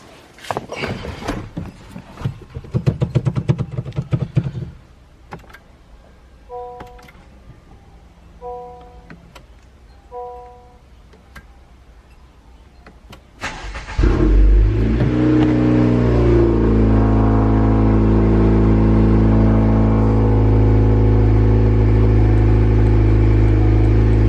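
A 2018 Honda Accord fitted with a Civic Si transmission and a new front pipe cranks over and fires up, settling into a loud, steady rumbling idle after a stretch of quieter clunks and a few electronic chimes.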